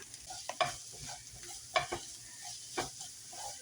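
Onions caramelizing in olive oil in a pan give a steady, quiet sizzle, broken by a few sharp scrapes and clacks of a utensil stirring them, at a moderate distance with no talking.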